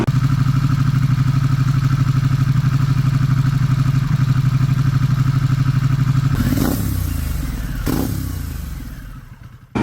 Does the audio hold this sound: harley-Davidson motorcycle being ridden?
yes